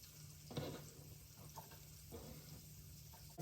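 Chopped green onions sizzle softly in melted butter in a pan over moderate heat, a steady low frying hiss with a few light stirring scrapes, no voices.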